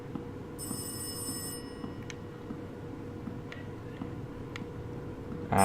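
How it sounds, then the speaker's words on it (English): A telephone rings in the horror video game Rise of Insanity, a steady electronic trill with a bright multi-tone burst followed by softer repeated rings over a low droning ambience, alone with no talk. "Is that a phone right there?"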